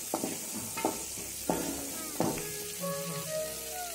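Pumpkin pieces sautéing in a pan for a Tamil pumpkin kulambu, with soft sizzling and several distinct spoon or spatula scrapes, fairly quiet and close, with no voices.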